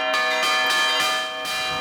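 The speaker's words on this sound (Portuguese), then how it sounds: "os sinos na tradição católica, eles nos chamam a atenção para o eterno" Bells of an old Catholic church ring out loud and resonant, several overlapping strikes with long shimmering tails following one after another.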